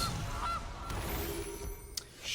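A cartoonish goose honk plays as the Gilded Goose card is cast in the video game Magic Arena, faint and brief over quiet game sounds.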